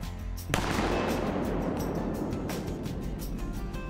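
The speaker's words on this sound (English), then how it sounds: "Shoot him, Charlie." A single close, loud shotgun blast while duck hunting, a sharp crack followed by a long rolling echo that slowly fades outdoors.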